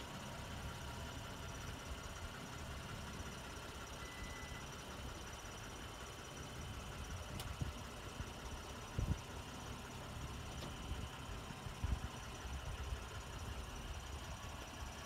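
Low engine drone of a rock crawler in Pure Rock Crawling, held back by compression braking through extreme gearing, steady and moderately quiet, with a few soft knocks and thumps from the rig over terrain.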